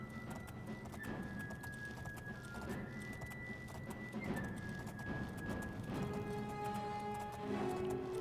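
Horse hooves clip-clop in The Elder Scrolls IV: Oblivion, a steady trotting rhythm carried along at moderate volume beneath chirping birds and sustained tonal background sounds.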